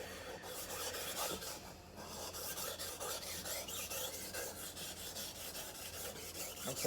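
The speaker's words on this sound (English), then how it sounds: "So I can feel the knife getting sharper" A dull knife is drawn against a sharpening stone in a steady run of quick rasping strokes, close and even, with no talking.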